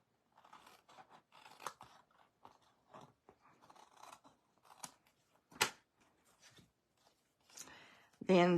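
Scissors snip through glued card paper in a run of short, close, crisp cuts with small pauses between them, with a louder rustle near the end.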